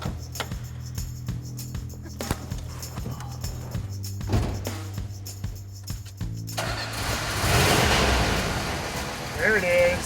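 A 1970 Dodge Challenger R/T Hemi cranks with a few clicks and a starter whir, then fires into a loud, rumbling idle that swells up close.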